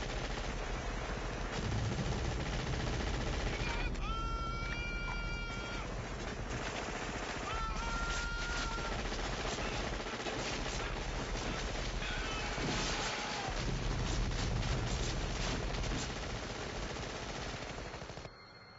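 In the movie Predator, a minigun fires in long, rapid, dense bursts through a jungle battle scene, heard at low volume with shouting and other effects mixed in.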